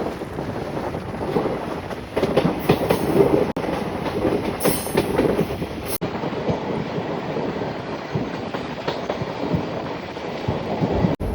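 Steady rumble and rattle of a moving train from inside a carriage, with continuous wind noise and periodic clacks; no voices.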